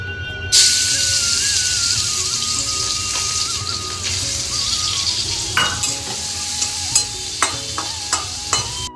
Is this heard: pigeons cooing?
no